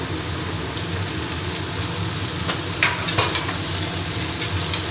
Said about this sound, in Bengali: কেটে রাখা লাউ আমি দিয়ে দিচ্ছি এই লাউটা এবার ভেজে নেব একটু